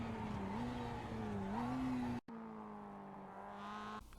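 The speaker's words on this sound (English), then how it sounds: "Shift down quickly to make use of the engine brake, which helps you to decelerate slightly faster." Mazda MX-5 in the iRacing game at Oran Park South, engine droning loud and steady with pitch sliding as it brakes, a brief sharp cutoff marking a quick downshift, then a lower steady drone.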